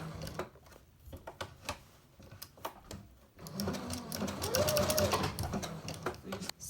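Close by, a sewing machine stitches an appliqué fused with bondaweb, starting in short stop-start bursts with clicks, then running into a steady, louder whirring stretch of stitching.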